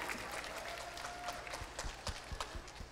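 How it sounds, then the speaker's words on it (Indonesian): A crowd at a televised beauty festival event in 2018 claps briefly, a faint, distant patter of many hands with soft crowd murmur beneath. "Tepuk tangan lu semuanya"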